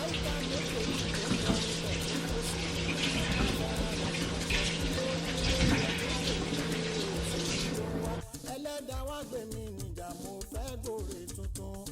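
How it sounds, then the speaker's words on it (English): A kitchen tap runs water over plantain being washed, a steady rushing stream that cuts off about two-thirds of the way through, with music playing underneath. "So I'm gonna wash this plantain."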